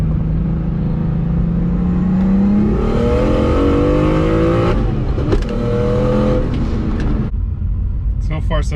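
A 750whp BMW 135i accelerates hard under boost, its engine note climbing steadily in pitch and loudness, then cutting off abruptly as it lifts, with a brief voice near the end.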